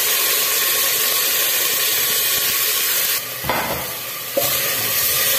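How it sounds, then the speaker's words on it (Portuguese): Seasonings fry in a pot for a homemade chicken soup, producing a steady close-up sizzling hiss with a brief stirring scrape and a clunk near the end. "Vou colocar aqui logo, tá aí dando uma fritadinha aqui."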